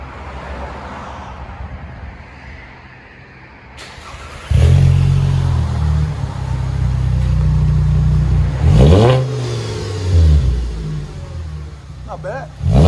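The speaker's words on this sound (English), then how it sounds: "There it is, muffler delete and resonator delete" A 2007 VW Jetta with muffler and resonator deleted starts to idle loudly, its raspy exhaust burbling steadily, then revving up twice with rising and falling sweeps, under some talking nearby.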